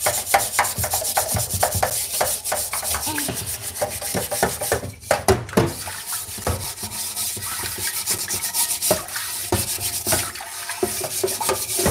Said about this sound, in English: Scrub it everywhere.